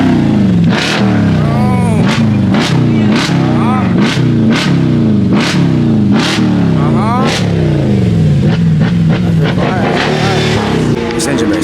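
At a convenience-store car meet, a car engine revs hard again and again in rapid bursts, loud and close, each rev rising then falling, with shouting voices underneath.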